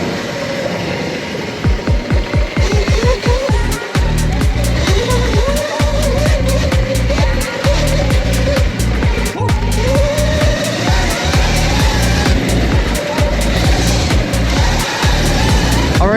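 An upgraded Surron electric pit bike is ridden with its back wheel spinning. A loud, close electric motor whine rises and falls over rapid pulsing and rumbling from the tyre and chassis.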